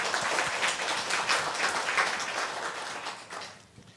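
Church congregation at a year-end worship service breaking into sustained applause, a dense, even clapping that fills the room before fading toward the end.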